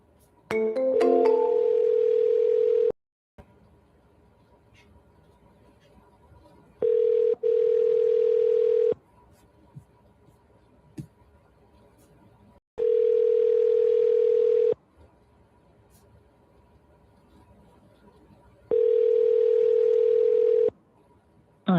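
A telephone ringing tone sounds while a number is being called, with four long, steady tone bursts of about two seconds each, separated by quiet gaps of several seconds.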